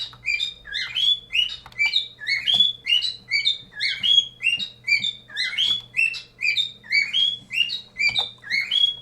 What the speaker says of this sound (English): stupid bird. Shut up,